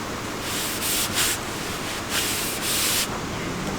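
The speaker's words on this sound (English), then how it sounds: "Now we're going to hand sand our blade." Hand sanding a forged steel spear blade made from 1900s scrap, abrasive paper rubbing in steady back-and-forth strokes, close and fairly loud, with rhythmic swells of scratchy friction and no talking.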